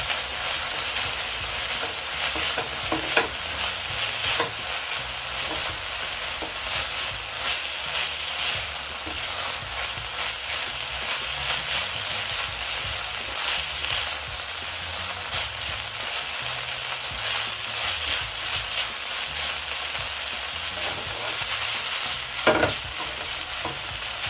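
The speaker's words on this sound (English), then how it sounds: "I'll go in with some turmeric, and I love adding my turmeric to the oil" Turmeric fries in hot oil as a base for minced meat sauce, a dense, steady sizzle running throughout with occasional scraping stirs, close and loud.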